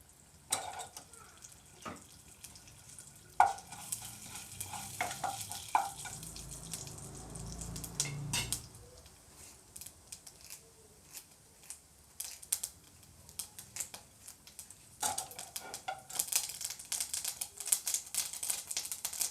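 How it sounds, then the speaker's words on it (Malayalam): Mustard seeds crackle in about two spoons of hot coconut oil, giving irregular sharp pops and ticks, sometimes in quick bursts, over a faint background sizzle. "കടുക് പൊട്ടട്ടെ."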